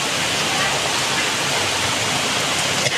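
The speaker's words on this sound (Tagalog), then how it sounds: "Lakas-lakas ng ulan" Loud, dense roar of heavy typhoon rain pouring steadily and close by, a constant broadband wash with no breaks.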